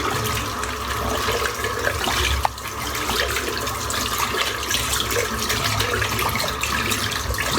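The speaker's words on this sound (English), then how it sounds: "Rinse the brush out." A silvertip shaving brush rinsed under a running bathroom tap, a steady continuous rush of splashing water at close range with a brief handling knock partway through.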